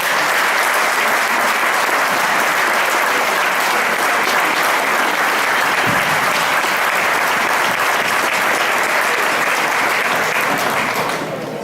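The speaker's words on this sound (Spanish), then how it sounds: "para quienes pido un aplauso por su siempre tan necesaria labor" Sustained audience applause for a rondalla string ensemble at an Aragonese cultural centre event in Puerto de Sagunto, dense and steady for about eleven seconds before easing slightly at the end.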